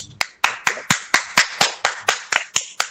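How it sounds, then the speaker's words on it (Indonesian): Rhythmic clapping in a classroom, a dozen sharp, evenly spaced claps that sound like one or a few people clapping in unison, close and crisp with no talking. "Boleh tepuk tangannya buat Rezki ya"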